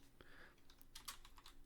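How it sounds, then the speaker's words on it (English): Quiet keyboard typing, a scattering of soft irregular keystrokes close by over low room noise, with no talking. "So if you hear typing, I apologize."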